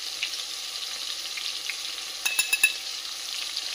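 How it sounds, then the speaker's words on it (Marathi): Spices for Gujarati dal dhokli, with green chili paste, turmeric, red chili and coriander-cumin powder, sizzle in hot oil in a steady close crackle, broken midway by a quick cluster of sharp stirring clicks. "इथं ही फोडणी पण छान अशी तेलात परतवून झाली आहे"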